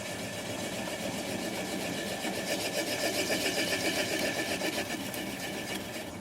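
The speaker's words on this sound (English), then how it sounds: "I'm going to apply the bevel of the gouge against the bottom of the bowl" A gouge cuts the bottom of a yew bowl spinning on a wood lathe at 200 RPM, making a steady, close, continuous scraping rasp over the motor's hum, with no talk.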